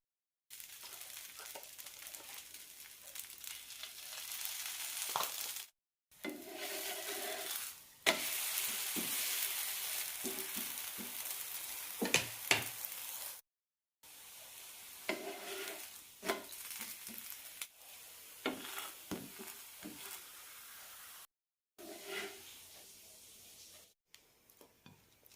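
Orotti, a rice flatbread, fries and sizzles in oil in a pan, a steady close hiss broken by brief pauses and scraping as it is turned several times, with soft clinks of the utensil.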